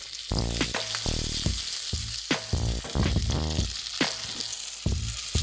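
Tuna sizzles in a hot pan for taco filling, a constant close crackle and hiss with repeated short scraping, clinking strokes of a utensil against the pan.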